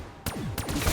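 Gunfire in Black Ops 3 Zombies on The Giant map: a couple of quick shots with fast decaying tails over steady in-game ambience.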